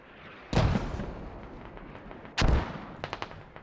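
Mortar rounds fire or land twice in the tactical shooter Squad, each a heavy, booming blast followed by a rumbling tail, with fainter cracks of distant gunfire trailing after.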